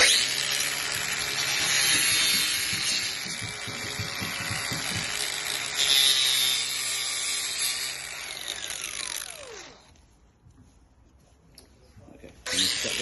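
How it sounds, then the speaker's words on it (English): An angle grinder cuts cornice trim for a 20ft expandable home, a loud high whining grind for about nine seconds that tails off and stops, then silence before a brief noise at the end. "then you cut it with your grinder"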